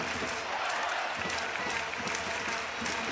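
A crowd roars in a dense, continuous wash of cheering and clapping at a EuroHockey 2013 women's field hockey match between Belgium and Belarus.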